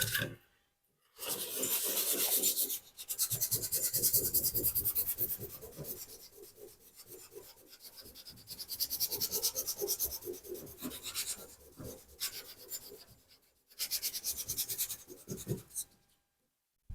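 Repeated rasping rubs of sandpaper against a car hood, coming in steady bursts with short pauses between strokes, close by.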